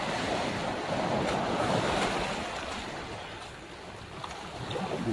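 Sea waves wash steadily onto an open-sea beach in Shinas, Oman, a continuous broad surf roar with light wind buffeting and no voices.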